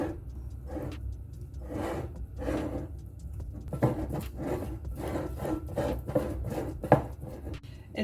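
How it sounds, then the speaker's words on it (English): A fork mashes bananas with flour and baking powder in a bowl, giving repeated soft scraping and squishing strokes in an irregular rhythm, close and moderately loud with no voices. "Here's my trusty fork. Let's start mashing."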